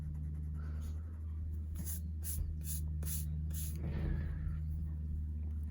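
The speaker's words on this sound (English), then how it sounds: "Then I'm going to erase what's left outside." Pencil drawing on paper being erased, a series of brisk rubbing strokes in quick bursts over a steady background hum.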